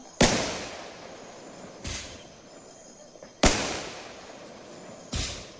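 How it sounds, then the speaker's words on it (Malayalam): Four sharp firecracker bangs go off a second or two apart during Vishu celebrations, each loud and near, followed by a brief fading crackle. "പടക്കമൊക്കെ പൊട്ടിച്ച് തീരാറായി"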